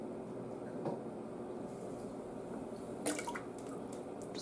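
A capful of RepuSafe dechlorinator is poured into turtle tank water, giving a few soft drips and splashes, with one brief burst standing out over steady watery background noise.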